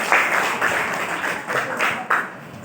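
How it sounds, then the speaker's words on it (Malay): Audience applause at a Malay-language forum on the digital era, a continuous full burst of clapping with a few louder individual claps standing out, close and sustained. "Mari kita berikan tepukan yang gemuruh kepada mereka."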